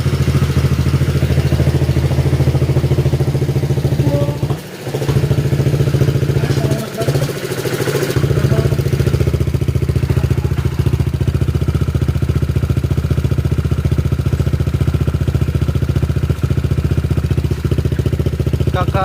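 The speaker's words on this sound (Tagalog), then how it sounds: "may maingay daw sa makina" A rough, noisy car engine running low on coolant runs steadily at idle with a low rumbling clatter, close by, briefly interrupted by a couple of knocks.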